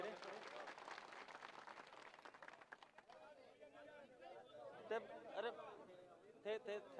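Crowd clapping at a large political rally in Sardarshahar, a fairly faint burst of applause that fades after a few seconds into murmuring chatter and a voice on loudspeaker.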